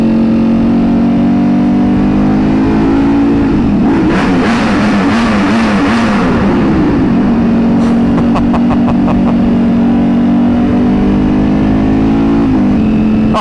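A Ducati Panigale V4 motorcycle engine idling loud and close, swelling in a rough revving burst, then settling back to a steady idle with sharp crackling blips partway through.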